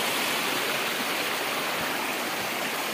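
The Mukhipata waterfall in Kalahandi gives a constant, full rush of falling water, an even hiss and roar with no break and no voices.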